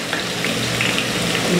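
Ginger and garlic sizzle in a hot pan, a dense, steady crackling fry heard up close without any talk.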